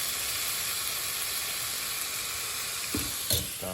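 Ingredients sautéing in a pan for Filipino papaitan, a steady close sizzle and hiss with a couple of brief stirring knocks near the end.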